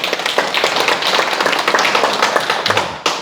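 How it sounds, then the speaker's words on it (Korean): Applause from a lecture audience at a Sunday talk, dense overlapping claps filling the room loudly for about three seconds before cutting off abruptly near the end. "자, 큰 박수 부탁드립니다."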